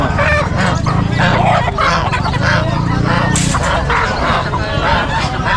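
Chickens and roosters clucking and crowing at a busy outdoor pet market in Bocaue, many birds calling over one another at close range, loud and continuous, with people talking among them.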